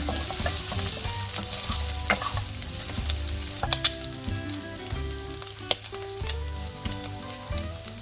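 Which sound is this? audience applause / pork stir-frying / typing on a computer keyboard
pork stir-frying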